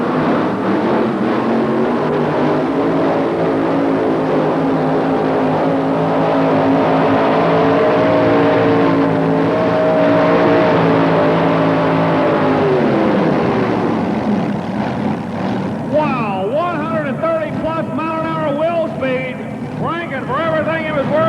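A pulling tractor at a 1987 tractor pull in Louisville, Kentucky roars loudly while dragging a weighted sled, its engine droning steadily, then rising and wavering near the end beneath an announcer's commentary.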